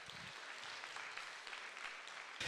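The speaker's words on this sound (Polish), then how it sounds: "Ogromne brawa dla wszystkich Państwa." Audience applause at a Polish gala event, steady and dense clapping from a crowd that runs throughout at an even level.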